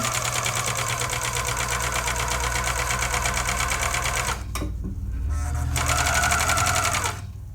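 A serger sewing a doll's raglan shirt, running in a loud, rapid, steady whir close up, then briefly stopping and starting again before settling.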